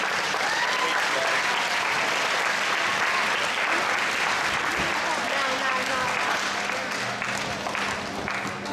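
An audience at a school awards ceremony applauds peer mentors with long, loud, continuous clapping that fills the room, with some crowd voices underneath.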